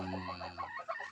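A rooster at a backyard farm hut crows loudly and close by in one drawn-out call that breaks into rough clucking notes at the end.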